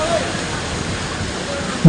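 A bus pushing through waist-deep floodwater on a Kolkata street after a night of heavy rain, giving a steady close rushing slosh and surge of water throughout, with a louder splash at the very end.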